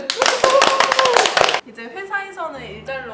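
A short burst of enthusiastic clapping from a small group, loud and close, followed by voices talking once it stops.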